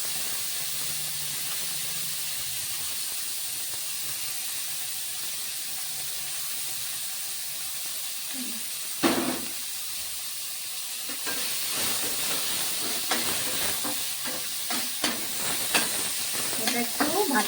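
Crushed garlic drops into hot oil with chopped onion in a pan and fries with a steady hiss and sizzle. A clatter of stirring comes partway through, then a louder, crackling fry continues under brief talk.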